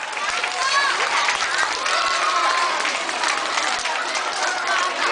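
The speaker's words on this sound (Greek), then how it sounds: "Και ένα χειροκρότημα για τα παιδιά." Applause for children at a school bullying-themed event: a steady crowd clapping and cheering throughout, with children's and adults' voices mixed in.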